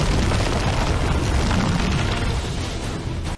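A sustained, roaring explosion from an animated Star Wars: The Clone Wars episode fills the scene with dense, broadband rumble for several seconds before cutting off abruptly, with no talk over it.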